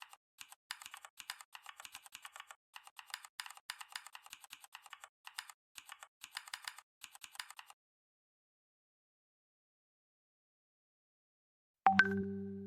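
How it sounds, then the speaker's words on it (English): Soft keyboard clicks sound as someone types into a chat app, an irregular run of quiet taps in bursts, then silence and a brief chime-like tone at the end. "as we type in, there is a satisfying keyboard sound that just makes this app extremely fun to use"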